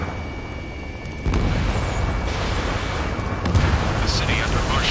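Gunfire and roaring jets over a city under martial law in Ace Combat 7, a dense continuous rumble with booming bursts that swells louder after the first second.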